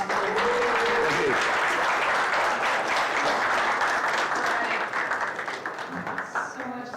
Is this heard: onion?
no